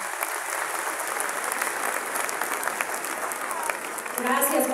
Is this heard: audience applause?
yes